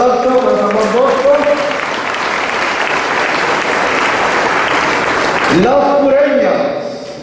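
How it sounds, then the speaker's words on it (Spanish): A church congregation at Sunday Mass applauds for San Juan Bosco, loud continuous clapping that fills the room, with a speaker's voice heard over it at the start and again as it fades. "un aplauso para San Juan Bosco"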